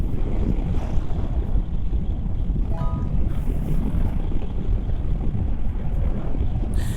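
Steady, loud wind rush buffets continuously over a rider's head on a 2025 Yamaha Tracer 7 with its windscreen at its highest setting, a dense roaring noise with no speech.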